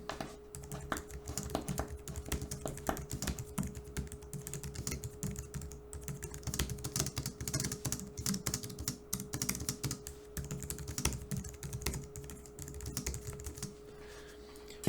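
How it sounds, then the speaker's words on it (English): Continuous quick typing on a Logitech MX Keys Mini low-profile keyboard, soft dense clicks at a steady pace with no voices. "when we're talking about the sound of the keycaps and the actual switches, they're quite nice"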